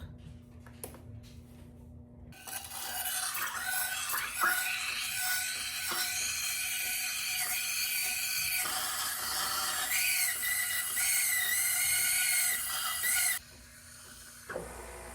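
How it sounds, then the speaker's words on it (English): An electric milk frother whirs in a pitcher of milk, starting abruptly with a steady high-pitched whine and hiss that holds for about eleven seconds, then cuts off. "now I'm going to go on the side and push this button and start frothing our milk"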